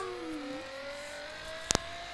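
A cartoonish car engine in a kids' video game revs up in a rising whine, then settles into a steady tone, with two sharp clicks near the end.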